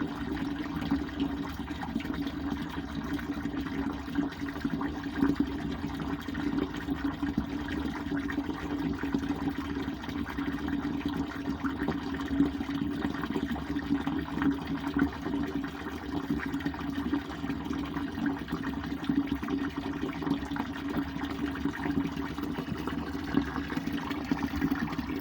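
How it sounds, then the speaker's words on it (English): Water runs steadily from a household tap fed by a gas hot water heater, a continuous even rush with a low hum underneath, moderately loud and unbroken throughout, with no talking. "I have a tap on in the house, so when I turn the water on"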